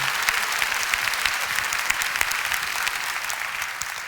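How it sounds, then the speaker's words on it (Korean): A church congregation at a prayer gathering gives sustained applause in praise to God, a broad, even roar of many hands clapping at full strength from start to finish, with no one speaking over it. "하나님께 영광의 박수를 올려드립니다."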